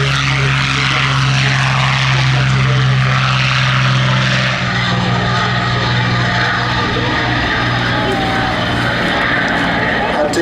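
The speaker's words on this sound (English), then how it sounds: "The Curtiss P-40C Tomahawk." A Curtiss P-40C Tomahawk warplane at the Duxford Battle of Britain airshow, its piston engine droning loudly and steadily throughout with a deep propeller hum, the tone shifting slightly midway as it keeps running under crowd-level ambience.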